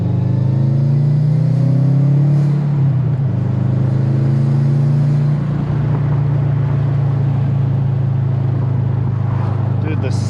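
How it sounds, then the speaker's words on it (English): Subaru WRX fitted with an R400 exhaust, its turbo and intake droning loud and steady through a long pull, with a rising engine tone sweeping up and a person talking over it. "Turbo sounds nice. Intake sounds beautiful."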